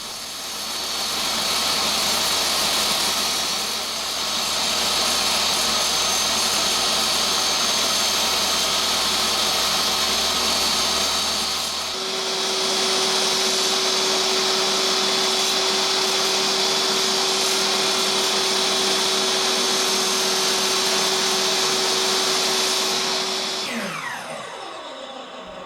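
A power tool cuts into a wooden floating shelf, giving a loud, steady whining roar that shifts pitch partway through and then winds down near the end, close and continuous.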